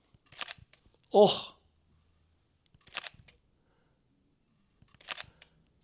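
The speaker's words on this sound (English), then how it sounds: "Listen to this shutter." Fujifilm X-Pro3 camera shutter clicks three separate times, crisp and close, evenly spaced about two seconds apart, with a short spoken exclamation between the first and second clicks.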